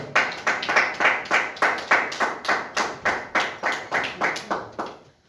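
Congregation clapping in a steady, rhythmic beat at a church service led by a preacher, about a dozen even claps from many hands, loud and close, with no talk over them and a fade at the end.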